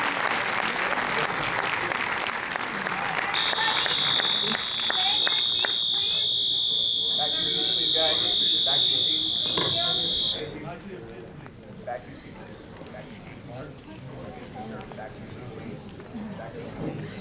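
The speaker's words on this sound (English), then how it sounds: "They set off the alarm so they can take them out without anyone going off." A fire alarm goes off in a hall at the end of a talk. A steady high-pitched tone sounds for about seven seconds over applause and crowd noise, then cuts off while chatter continues.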